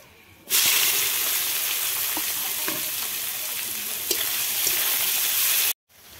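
Chopped onion fries in oil with bay leaf, whole garam masala, dried chilli and cumin, a sizzle that bursts in loudly and holds steady with occasional stirring scrapes, then cuts off abruptly near the end.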